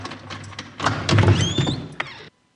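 A door is opened nearby with a rattling, creaking mechanism, building to a louder scraping stretch before a final thunk, then silence.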